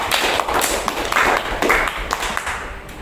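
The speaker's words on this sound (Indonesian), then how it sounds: "Tepuk tangan dulu untuk tarik" A burst of applause, many hands clapping together in a dense, steady patter that continues for a few seconds at close range.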